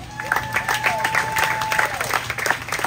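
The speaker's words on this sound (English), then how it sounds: "I ask again for a big round of applause." An audience at a Kosrae State day during the Micronesia Expo claps and cheers, a busy crowd din with a sustained tone and voices mixed in throughout.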